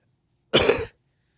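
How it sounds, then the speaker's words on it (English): A single short, close cough, harsh and throaty, stands alone against near silence. "Cough for us."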